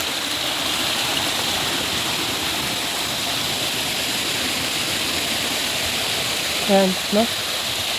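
A stream of flowing water makes a steady broadband rush throughout, with a brief voice speaking near the end.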